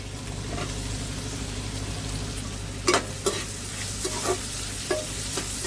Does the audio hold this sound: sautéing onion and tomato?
yes